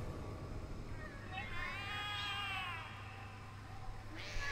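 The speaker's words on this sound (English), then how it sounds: "The cats are alarming." Cats meow and yowl in the horror video game The Cat Lady. A long, wavering, drawn-out cry rises over a steady low hum, followed by a short, sharper meow at the end.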